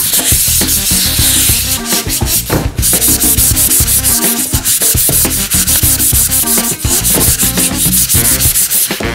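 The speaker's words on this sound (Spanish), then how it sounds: "vamos a lijar para que nuestra pieza quede un poco más lisa, igual con movimientos circulares" Close, continuous abrasive rubbing of sandpaper on wood, moving in repeated circular strokes with a steady rasping rhythm and brief pauses.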